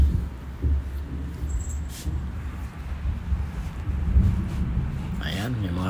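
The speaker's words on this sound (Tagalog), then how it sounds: "Ayan, may mga kulog-kulog pa." Low rolling thunder rumbles through a steady murky background during outdoor cooking of pakbet, a Filipino vegetable stew, with a voice present at moments.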